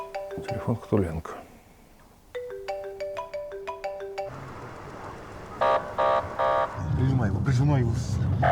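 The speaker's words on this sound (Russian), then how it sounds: "Телефон Хтуленко." A mobile phone ringtone plays a bright, repeating melodic pattern in two bursts during a tense police chase, then gives way to engine noise, beeps and background voices.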